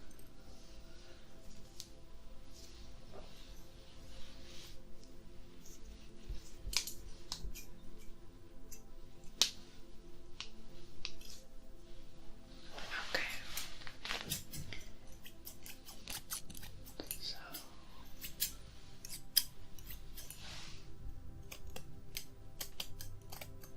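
Quiet snipping of texturizing scissors through hair, irregular light clicks and crisp cuts repeating close up, with no talking.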